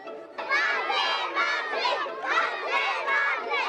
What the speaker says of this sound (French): c'est une foule en liesse qui va les accueillir